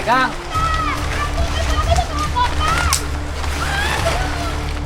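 Water splashes and sloshes steadily as someone slides down a river in front of a house, with children's voices and shouting over the close, continuous splashing.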